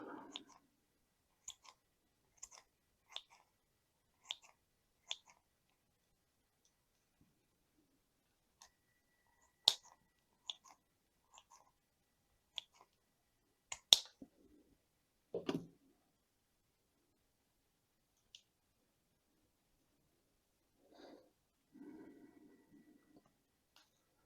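Shears trim the roots of a ficus bonsai during repotting, making sparse, crisp snips and clicks at irregular intervals in an otherwise quiet room.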